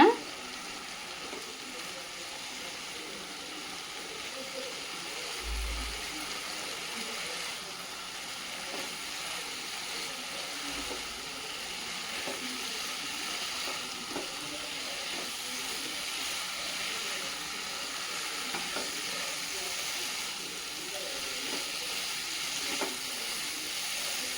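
Fried raw banana pieces stirred in a pan, with a steady frying hiss and faint scraping throughout and a few low thumps along the way.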